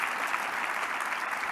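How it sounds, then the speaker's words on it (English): A brief burst of crowd applause at an expo talk on climate change and regenerative agriculture, steady clapping from many people lasting just over a second. "And one more round of applause."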